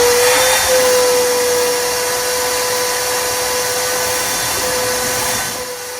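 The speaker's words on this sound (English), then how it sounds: "try to suck as much of this glass and pine straw out of here as possible" A vacuum cleaner drones steadily with a constant whine as it sucks broken glass and pine straw out of the interior of a TE72 car. The sound runs loud and unbroken, then eases off slightly near the end.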